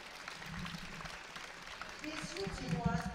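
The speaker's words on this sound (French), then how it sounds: "très applaudi les sœurs Tremble" An audience applauds two sisters after their synchronized swimming free duet final at an open competition; steady crowd clapping rises toward the end while a commentator talks over it.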